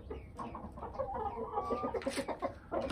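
Backyard chickens cluck and murmur close by while being fed a grain mix of barley, wheat and corn, with overlapping calls and no speech.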